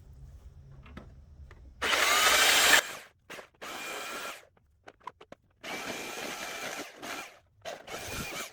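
A flat sander smooths the center console of a 1955 Chevy truck in short bursts of loud rasping abrasion, separated by quiet gaps with faint taps and handling noises.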